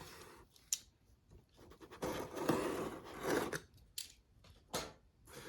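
Scissors cut open the cardboard of a subscription box up close, with sharp snips and scraping, rustling cuts coming in uneven bursts and no talking.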